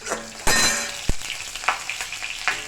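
Onions and panch phoron fry in hot oil in a pan for khichuri, a constant close sizzle broken by a few stirring scrapes and a sharp clink of a utensil.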